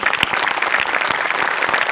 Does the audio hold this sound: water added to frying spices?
no